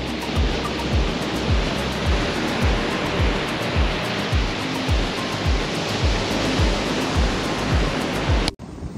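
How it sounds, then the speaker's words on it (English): Rough ocean surf at Playa Boca Vieja beach in Oaxaca, Mexico, a loud, continuous roar with rolling low thumps of breaking waves, cutting off abruptly just before the end. "So the waves, although beautiful, look a little rough for swimming"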